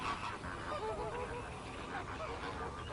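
Flamingos calling continuously in a flock, a dense overlapping chorus of nasal, goose-like honks that stays loud and busy throughout without any talking.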